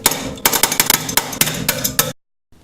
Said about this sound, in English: beat it with a hammer a bit